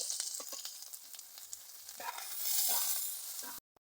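Dried chilies frying in a pan with garlic and onion, a constant hiss of sizzling oil with small crackles and a few stirring scrapes, close and steady before cutting off abruptly near the end.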